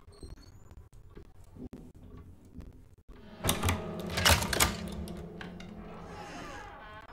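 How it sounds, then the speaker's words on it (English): Typewriter keys in the video game Alone in the Dark clatter in a quick burst of strikes after a quiet start, then trail off into a softer mechanical rattle. "I'm touching your typewriter!"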